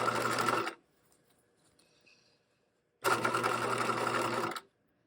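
Sewing machine stitching a waistband seam on shorts, two loud steady runs of rapid motor-driven stitching separated by a quiet pause with faint fabric handling.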